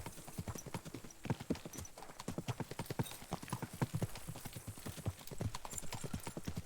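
Horse hooves clip-clop in a steady, brisk rhythm on a road in Kingdom Come: Deliverance II, a dense run of close, distinct beats with no talk over them.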